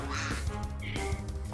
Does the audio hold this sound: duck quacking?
yes